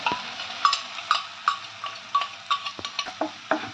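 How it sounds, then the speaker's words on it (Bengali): Ginger paste is stirred as it fries in a pan, a spoon scraping and clinking against the metal in a steady series of close, distinct strokes over a faint sizzle. "দু চামচ আদা বাটা আদার কাঁচা গন্ধটা যাওয়া পর্যন্ত কিছুক্ষণ আমি নাড়াচাড়া করে নিলাম"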